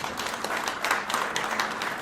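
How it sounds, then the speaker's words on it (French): Gala audience applause at a Brussels New Year's wishes event, a steady, moderately loud wash of clapping that fills the moment without a break. "Pas des applaudissements timides."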